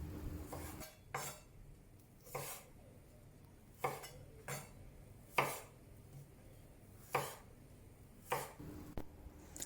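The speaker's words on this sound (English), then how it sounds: "Cut the baby corns into 2 or 3 on the bias." A knife cuts baby corns on the bias on a cutting board for a vegan stir-fry, giving about nine sharp, separate chops spaced roughly a second apart. The chops are close and crisp, with quiet kitchen background between them.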